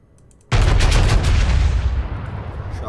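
A North Carolina battleship in World of Warships fires its main guns in one sudden, loud broadside after a quiet start, and the heavy roar slowly fades over about two seconds.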